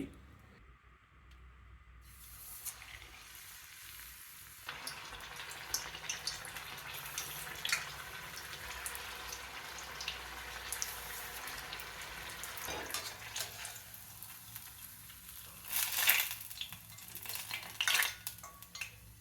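Green chillies dipped in gram-flour batter for mirchi bajji sizzle as they deep-fry in hot oil, a steady crackling hiss that swells louder near the end, with faint utensil clinks and no talk.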